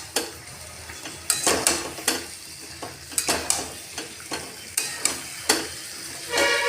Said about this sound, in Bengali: সেই মশলাটা দিয়ে দিলাম, দিয়ে এটা আমি ভালো করে কষিয়ে নেব